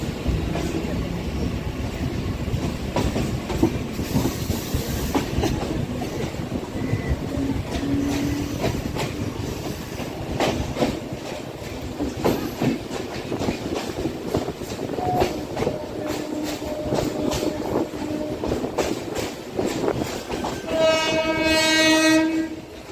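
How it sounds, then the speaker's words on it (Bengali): A Kolkata Circular Rail train runs with a steady rumble and rattle of wagons for the whole stretch, and a loud horn blast sounds close by near the end. "দেখুন ডান দিকে যে ট্রেনটা যাচ্ছে ওটা যাচ্ছে শিয়ালদা স্টেশনে।"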